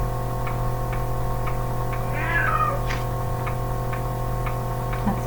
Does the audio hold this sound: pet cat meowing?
yes